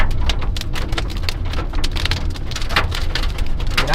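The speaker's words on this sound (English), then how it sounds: "There's no rain, there's just hail." Hail falls during a Colorado storm, a dense continuous patter of hard pellets striking surfaces nearby, loud and steady with sharp irregular ticks throughout.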